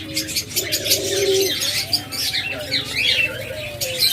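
Captive diamond doves, young adults of laying age, cooing softly among other cage birds, with chirps and tweets over steady aviary background noise throughout.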